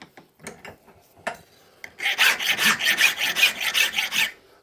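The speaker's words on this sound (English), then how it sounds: "You need it for filing brass." Metal file stroking across brass, a series of rapid rasping scrapes in steady rhythm at close range after a few quieter scuffs and taps, with no talk.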